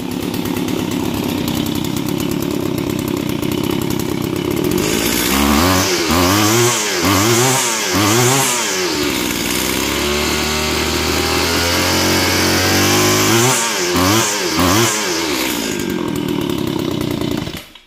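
Stihl chainsaw, a two-stroke engine, idling steadily, then revved through repeated sharp throttle bursts with a rising and falling whine, a sustained run at part throttle, and more revving bursts; loud, close and alone.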